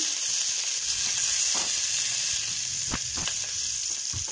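Green chilli pieces sizzle in about two spoons of hot oil in a pan, a steady bright frying hiss throughout with a few soft stirring clicks, no voices.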